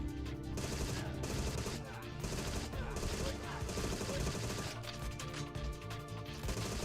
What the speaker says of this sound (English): You shoot up the Twin Peaks room.